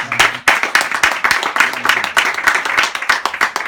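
A church congregation applauds, dense, steady clapping filling the whole stretch, with a brief voice faintly underneath at the start.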